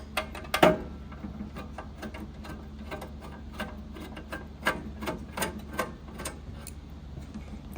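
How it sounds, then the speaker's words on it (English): Sparse small mechanical clicks and ticks while the two front screws of a FocusInc Starfire-62U roll-to-roll UV DTF printer are loosened, one sharper click early on, then faint scattered ticks in a quiet room. "we loosen the 2 screws at the front"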